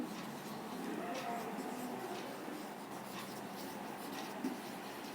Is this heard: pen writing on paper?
yes